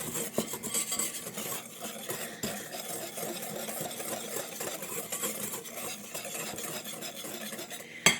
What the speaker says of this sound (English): I'm going to take my whisk and I'm going to combine these ingredients until they are fully and nicely incorporated